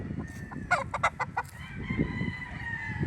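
Chickens on a farm in San Pablo, Laguna, among them yellow-legged roosters, give a burst of sharp clucks and calls near the middle, with a rooster crow low in the mix and a steady farmyard murmur underneath.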